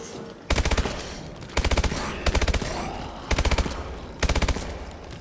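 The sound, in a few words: AMR9 gunfire in Call of Duty: Advanced Warfare video game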